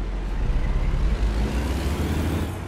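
In the video game American Truck Simulator, a car pulls away with a steady, low, broadband engine rumble, continuous and moderately loud with no voices.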